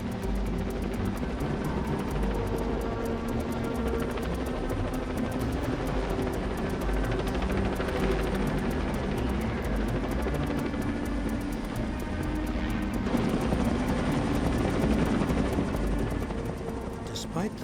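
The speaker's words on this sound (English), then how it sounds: "The helicopter was modified." A modified helicopter fitted with a transparent viewing bubble drones steadily with a continuous rotor and engine roar, loud and unbroken throughout, with no voices audible.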